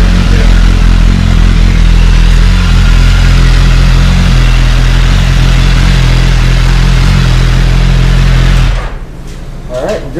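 2018 BMW S1000RR Motorsport superbike with a loud, steady engine rumble close by, running continuously before cutting off abruptly near the end, followed by a short stretch of quieter background noise.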